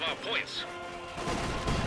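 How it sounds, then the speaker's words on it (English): Gunfire from troops in the video game Company of Heroes 2, a short burst of shots and crackling reports mixed with battle noise, heard under someone talking. "He's shooting at Jimmy's guys in the open here"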